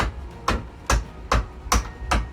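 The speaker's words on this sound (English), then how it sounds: "and hammer until it can pop out your hinge" Five sharp metallic hammer strikes land at a steady, even rhythm, tapping a pin out of a door hinge, close and fairly loud.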